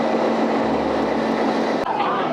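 A train stands at the Nilgiri Mountain Railway station in Ooty, giving off a steady low rumble and hum, with one sharp metallic click near the end.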